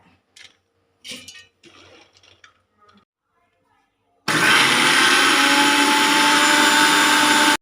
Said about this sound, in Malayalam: മിക്സിന്റെ ജാറിലിട്ട് നമുക്ക് അരച്ചെടുത്ത് വരാം